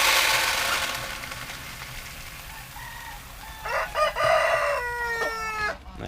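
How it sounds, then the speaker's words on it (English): Black Orpington hens and a rooster on a farm, clucking softly at first, then a loud crow with a few more calls rising over the background near the end. "we have got the Black Orpington chickens"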